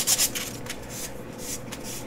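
Steady hand sanding on a wooden box, a soft continuous rubbing scrape with slight strokes in intensity, close and fairly quiet, with no voices.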